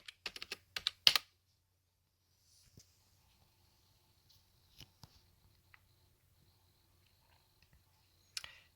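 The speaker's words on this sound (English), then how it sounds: "Go ahead and enter my password." Someone types a password on an iMac G3 keyboard: a quick cluster of close key clicks at the start, then a few sparse faint taps and a final keystroke burst near the end, in an otherwise quiet room.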